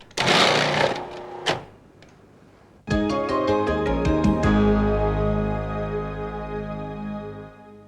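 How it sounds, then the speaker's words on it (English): A 1998 Cuisinart DLC-10 food processor slicing cucumber starts with a few clattering knocks, then the motor whines up loudly into a sustained hum with a rapid pulsing rhythm that slowly winds down, close and alone. "Use the small pusher to push it through, and the pulse control and slice."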